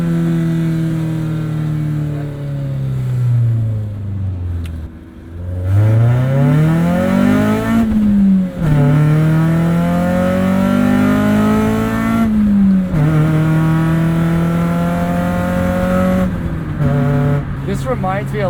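A 1996 Acura Integra Lemons race car drones loudly and steadily up close, its front-mounted engine rising and falling through gear changes, with faint tire noise beneath and someone talking over it.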